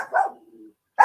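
A dog barks nearby, two short sharp barks separated by a trailing whimper-like tail, otherwise quiet.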